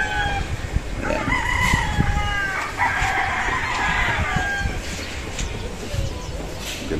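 Roosters crowing at a gamefowl farm, several overlapping crows from birds below the house, with steady clucking and a voice talking over them.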